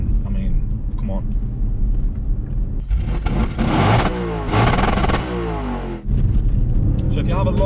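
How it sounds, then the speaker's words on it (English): An Audi RS4 B8 V8 engine revs hard and rumbles, its pitch climbing and dropping through a couple of surges, loud and close. "who doesn't love the sound of a V8 engine?"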